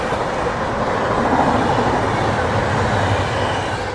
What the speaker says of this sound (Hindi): ये गई भाई कालिंदी एक्सप्रेस